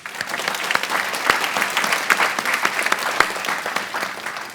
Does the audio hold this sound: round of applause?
yes